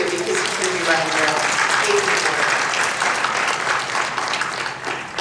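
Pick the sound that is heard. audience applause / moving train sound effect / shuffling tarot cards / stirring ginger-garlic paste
audience applause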